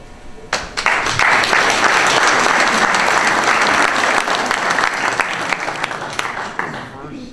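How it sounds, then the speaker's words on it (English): Enthusiastic applause for candidate Jim Beck at a Cobb County Republican Party breakfast, bursting in suddenly and holding strong and close for several seconds, with voices mixed into the crowd. "Thank you for the applause for Jim this morning."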